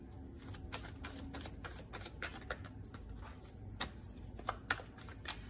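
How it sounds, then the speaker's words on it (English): Tarot cards are shuffled by hand in a series of soft, quick riffling and tapping bursts, close and quiet, with no voice over them. "I don't know why I'm still shuffling."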